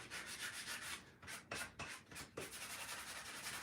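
Handles being sanded by hand with 220 grit sandpaper, a close, steady rubbing rasp in rapid back-and-forth strokes with a few brief pauses, quiet overall and with no talking.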